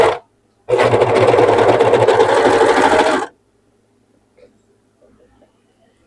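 A sewing machine stitches through small scraps of fabric in one steady, loud run of about two and a half seconds, then stops and leaves near silence with faint rustles.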